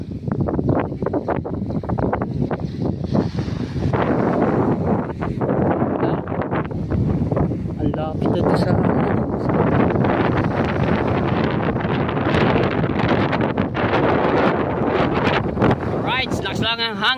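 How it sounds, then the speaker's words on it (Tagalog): Strong wind buffets the microphone with a constant roar and rumble, gusting throughout without pause. "Hangin."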